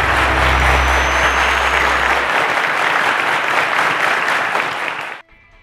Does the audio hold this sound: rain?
no